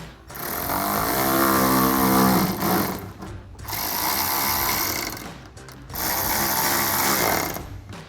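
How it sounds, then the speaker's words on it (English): A power driver with a 10mm socket tightens bolts on the driver's side corner of a vehicle bumper, giving three long, loud whirring bursts of about two to three seconds each, separated by short pauses. "take our 10mm socket to tighten those down"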